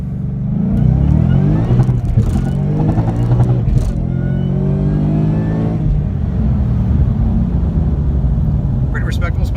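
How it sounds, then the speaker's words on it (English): A car on Continental ExtremeContact Sport tires pulls hard from around 30 mph in first gear on dry pavement, the engine note rising loudly then easing, with someone talking over the run. "I'll do a little first gear stab and a roll on, see how they do."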